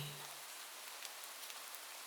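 Soft, steady rain falls on a misty town street, a faint even hiss with a few light drips scattered through, no voices.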